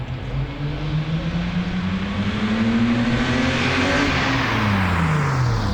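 BMW E30 engine revving through a newly installed exhaust, a loud, close drone whose pitch climbs steadily, holds, then drops back as the revs fall, with no voices.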